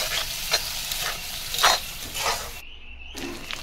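Meat fries in a pan, releasing its oil: a steady close sizzle broken by repeated stirring scrapes, with a short quieter gap before the sizzling resumes.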